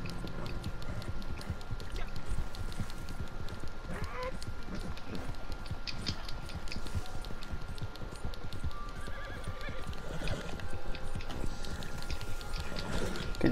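Rapid clip-clop of horse hooves in the video game Red Dead Online runs throughout, with a horse whinnying and faint mechanical sounds mixed in.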